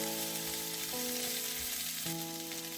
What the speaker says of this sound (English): When the oil is hot, we put the onions and the white part of the green onions inside.